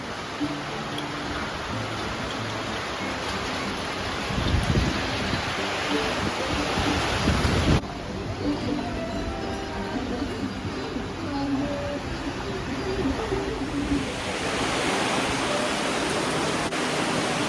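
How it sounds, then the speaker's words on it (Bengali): Steady rain falls all around in a dense, even hiss that swells and eases slightly at times, with no voices. "এখন এত ভালো একটা বৃষ্টি নামলো"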